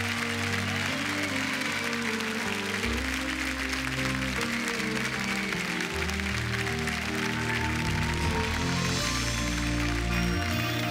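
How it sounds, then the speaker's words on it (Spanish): Sustained applause from a large TV studio crowd welcoming a singer, loud and continuous, with music playing underneath throughout. "recibamos con este fuerte y cariñoso aplauso"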